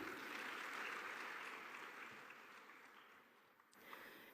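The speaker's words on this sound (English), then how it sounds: "Another round of applause for her" A conference audience applauds steadily at a youth health session, a dense crowd of clapping that swells early and then gradually fades out, with no speech over it.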